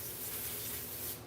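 A rock saw throws off a steady, loud hiss of coolant spray while slicing through agatized coral geode, a continuous broadband wash with no pauses and no voices.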